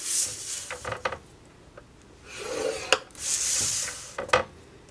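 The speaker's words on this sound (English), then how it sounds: "I'm going to score it at 1 inch on all sides" Stylus scoring a piece of paper on a scoring board for a paper purse, repeated soft scraping strokes separated by brief light taps and clicks, close and fairly quiet.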